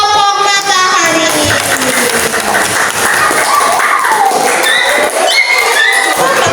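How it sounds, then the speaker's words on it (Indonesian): A classroom group of participants claps for the Matahari team, with steady, dense applause and scattered excited voices and shouts over it throughout. "Oke, tepuk tangan untuk kelompok matahari."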